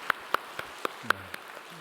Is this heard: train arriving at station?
no